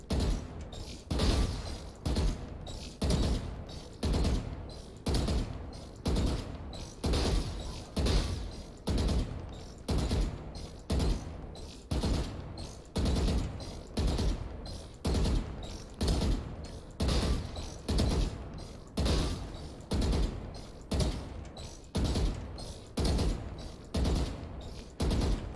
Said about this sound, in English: I like the sheriff still using this gun on this whole test.